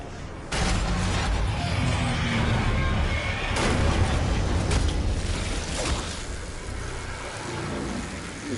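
A frag grenade explosion in Black Ops 6, a sudden heavy blast followed by sustained loud rumbling and crackling battle noise with further thumps.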